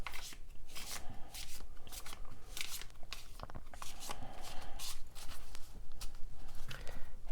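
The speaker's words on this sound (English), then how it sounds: "what I most like to do when I'm doing personal readings is a mixture of overhand shuffling" Tarot cards being shuffled overhand, a steady run of soft papery riffling and slaps repeating close by for several seconds, with no talking.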